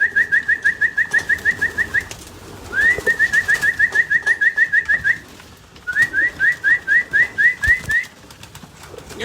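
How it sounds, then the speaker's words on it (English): Racing pigeons in a loft call up close in three runs of rapid, rhythmic cooing pulses, each lasting a couple of seconds, separated by short pauses with faint rustling. "You're taking a look at the birds right up close."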